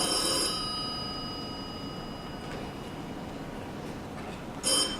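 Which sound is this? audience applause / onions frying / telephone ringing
telephone ringing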